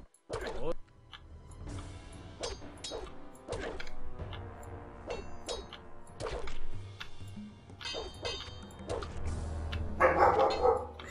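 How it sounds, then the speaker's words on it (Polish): A dog in a room barks repeatedly in sharp, uneven bursts with some whimpering yips, close by, mixed over game sounds and someone talking. "przepraszam za psa"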